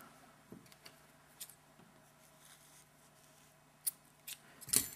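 Scissors trim the yarn tail on a small crocheted pumpkin: a few faint clicks and snips scattered through a quiet room, ending in a closer, louder cut.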